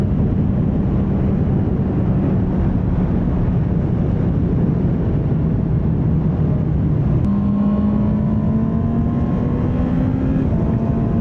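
Honda CB650R motorcycle engine droning steadily while riding downhill through a forest toward the Danube, a loud continuous hum with wind noise and a pitch shift as the rider changes gear partway through.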